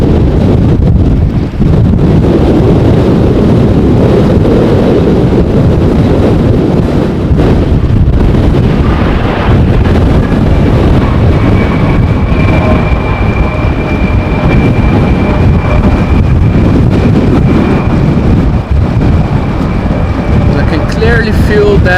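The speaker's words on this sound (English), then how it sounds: "the wind is nowhere nearly as intrusive now as it was with the rain cover over it." Stormy wind buffets a microphone at Amsterdam airport during plane spotting, a loud, continuous roaring rumble with gusty surges throughout.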